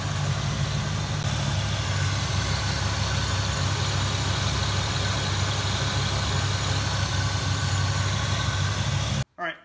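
A Ford Mustang Fox Body engine idles steadily with a low, constant rumble throughout, then cuts off abruptly near the end, leaving a brief thump.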